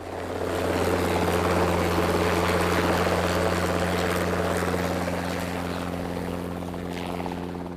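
Sarang helicopter display team flying at an Indian Air Force air show over Jaipur, a loud continuous rotor and engine drone with steady low tones, slowly fading near the end.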